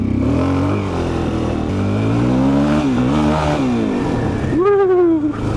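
A 400cc dirt bike with a flat slide carburetor revs while being ridden in cold weather, its engine note rising and falling through several throttle blips and ending in a sharp higher-pitched rev.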